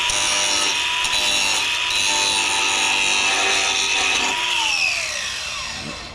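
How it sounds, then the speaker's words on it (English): A hand file scrapes burrs off the top and bottom of a riding mower's metal swing arm, giving a loud, continuous rasping rub that changes pitch near the end and then fades. "I'm just trying to get the little burrs off the top and the bottom."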